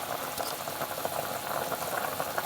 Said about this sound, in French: Voilà une grosse ébullition. Donc je vais laisser bouillir un petit peu.